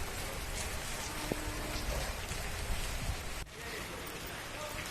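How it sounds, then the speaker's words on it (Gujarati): Heavy downpour pounds the streets of Upleta during an unseasonal storm, a dense, even hiss of rain that dips slightly partway through. "વીજળીના કડાકા ભડાકા સાથે અહીંયા ધોધમાર વરસાદ પડ્યો"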